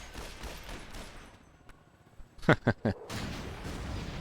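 Pistol fire from a character named Boris in a free-for-all video game match, three sharp close shots in quick succession over a low, rumbling battle backdrop.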